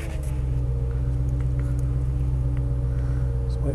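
A 1972 Mercedes 280 SE 3.5 V8, W108 model, settles into a steady, deep low rumble at idle, close and continuous without talk.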